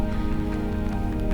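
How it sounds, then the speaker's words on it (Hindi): Rain falls steadily on a lush green forest trail during a stormy day, a continuous dense patter close by with no voices. "और बारिश भी शुरू हो चुकी है अभी"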